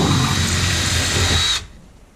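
Power drill boring into thin car body metal while fitting an aero kit to a BMW E30, a steady loud whining drone held for about a second and a half before cutting off.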